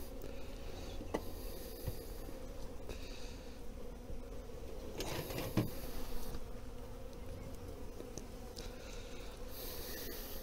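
A dense swarm of honey bees at a hive drones in a steady, continuous buzz close by, with no voices.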